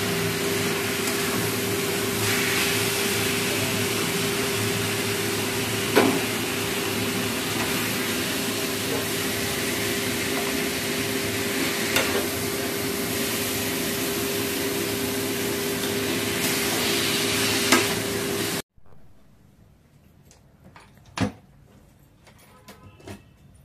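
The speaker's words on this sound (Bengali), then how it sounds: "মায়ের হাতে বাঁধাকপিটা তৈরি মোটামুটি হয়ে গেছে" Cabbage stir-frying in a pan at home, a steady broadband sizzle and hiss that runs loud and continuous for most of the stretch, then cuts off abruptly to near quiet with a few faint clicks.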